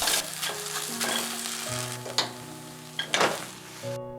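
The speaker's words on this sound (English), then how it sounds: "For the shiitake mushrooms, add a pinch of salt and stir from time to time for 2 minutes." Shiitake mushrooms frying with a pinch of salt in a hot pan, a steady bright sizzle broken by several sharp stirring scrapes and clacks, close up with no voices.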